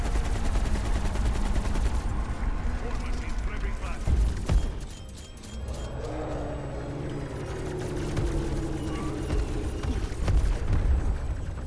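Heavy, sustained automatic gunfire in the Black Ops Cold War Zombies game, with loud bursts running almost without a break and a brief lull midway. Players talk excitedly over the shooting.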